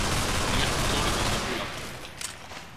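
Rapid gunfire from a pistol in the horror game Underhell, a dense continuous burst of shots up close that gradually fades, with a few sharper cracks near the end.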